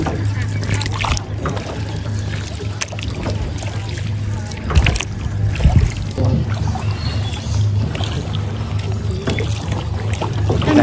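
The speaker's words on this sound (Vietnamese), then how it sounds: "Đang chèo ghe. Chèo thuyền." Oars paddling a small rowboat on the river at Tràng An, Ninh Bình, with soft rhythmic splashes and water noise beneath wind buffeting and someone talking over it.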